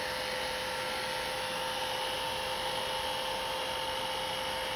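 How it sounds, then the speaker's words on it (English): A hair dryer blows continuously at an even pitch, a steady whooshing airflow with a faint motor whine, close and uninterrupted throughout. "you can also use a hair dryer, which is you just turn on and blow dry"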